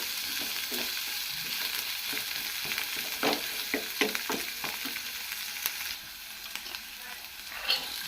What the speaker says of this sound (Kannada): ಈ ರೀತಿ ಈರುಳ್ಳಿನ ಫ್ರೈ ಮಾಡ್ಕೋಬೇಕು